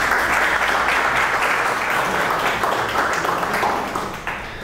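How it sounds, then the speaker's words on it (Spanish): Audience applause for a lecturer at an astrophysics talk, a dense, steady wash of clapping from a sizable crowd lasting several seconds before tapering off at the end. "Un aplauso para él."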